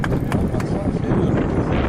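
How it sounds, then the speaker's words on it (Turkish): Gusty wind on a fishing pier in Foça, Turkey, buffets the microphone in a low, rumbling roar, with a person speaking briefly through it. "Rüzgar da çıktı zaten."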